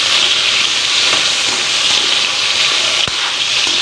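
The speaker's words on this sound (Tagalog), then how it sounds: "Kaya natin mag-prito para masaya." Steady, loud sizzling of carrots frying in a hot pan, a continuous crackling hiss with no voices.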